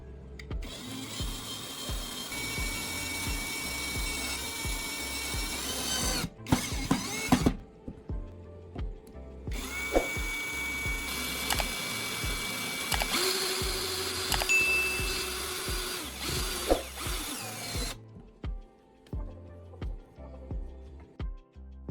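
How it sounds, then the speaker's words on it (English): Drill driving screws to fix a handle onto a shovel, long buzzing motor runs with short pauses between, close and loud. "I will use screws to secure it."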